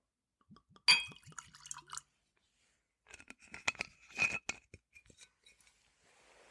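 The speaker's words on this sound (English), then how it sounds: "I'm going to get just a little pour in my glass" Fighting Cock bourbon whiskey poured into a rocks glass: close glassy clinks and a short burst of liquid trickling, a pause, then another stretch of pouring with small clinks and drips, fairly quiet and alone.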